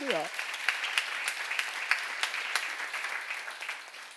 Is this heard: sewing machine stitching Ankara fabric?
no